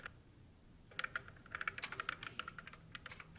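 Quick, light key clicks from someone typing on a computer keyboard, starting after a quiet second and continuing in uneven bursts, close and fairly soft, with no talking.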